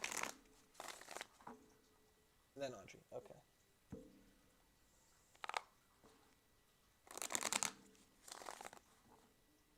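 Tarot cards shuffled during a reading, heard as several short papery riffling bursts scattered through the clip, with a voice talking between and over them.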